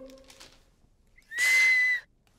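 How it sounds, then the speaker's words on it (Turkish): A toy whistle from a children's party bag, given out at a face-painting party in a cartoon, lets out one loud, steady shrill blast of about half a second. A faint voice-like sound comes just before it. "Bakın bir düdük."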